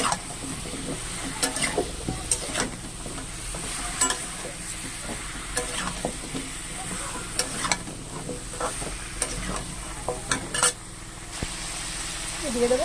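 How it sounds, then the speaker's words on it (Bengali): Pumpkin and potato pieces fry together in a pan with a steady sizzle and frequent scraping strokes of a spatula, close and continuous, with some voice in the background. "দুটো জিনিস একসাথেই ভেজে নেব।"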